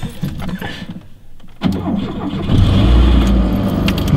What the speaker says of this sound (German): Du machst ein Auto an.